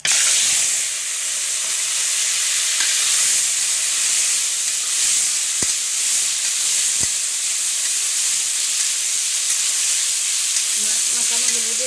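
Potatoes and pointed gourd frying in oil with cumin, giving a loud, constant hiss and sizzle with a couple of sharp clicks partway through.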